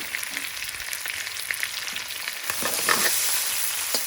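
Green chillies dropping into a hot pan of garlic and ginger for a British Indian restaurant-style chicken chilli stir fry, setting off a steady close sizzle that swells louder and brighter partway through, with no talking.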